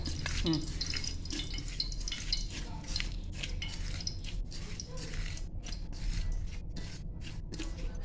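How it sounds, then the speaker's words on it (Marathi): Marinated bangda (mackerel) coated in chilli, rava and rice flour fries in a pan with a steady faint sizzle, broken by scraping and clinking utensil sounds. "तो आता फ्राय करून घेऊया"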